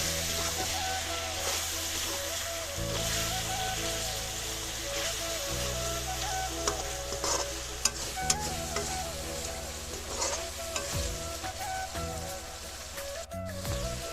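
Meat with potato and red pumpkin stirred in a pan, a soft steady sizzle with scraping stirs throughout, some faint background sounds.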